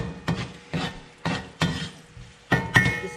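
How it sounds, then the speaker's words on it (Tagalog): Ginger is stirred in a pan while Pinoy-style salt and pepper shrimp is being cooked. About six distinct scraping strokes come at a loose, even rhythm, close and fairly quiet, with no one talking. "igisa natin siya ng mabuti"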